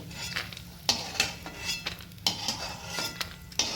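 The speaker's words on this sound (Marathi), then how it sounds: "आता याच्यात मी उडदाची डाळ टाकते" Urad dal is tipped into a pan of roasted peanuts and stirred, a metal spoon scraping and clinking against the pan in sharp, irregular strokes over a soft background hiss, with no talking.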